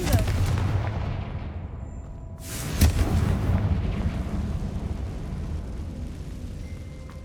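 A Confringo fire spell bursts in Hogwarts Legacy, a loud blast around the three-second mark rising over a dense, rumbling game soundscape that stays heavy and continuous throughout.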